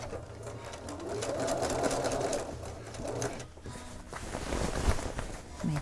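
A sewing machine stitches a seam in a rain cape slowly, its motor whirring and needle chattering in short uneven runs, close by, with pauses and a few handling knocks.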